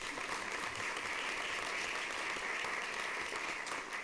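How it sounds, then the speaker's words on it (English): Applause at a school district governing board meeting, a steady wash of many people clapping throughout, somewhat distant and quieter, with no speech over it. "let's clap for them"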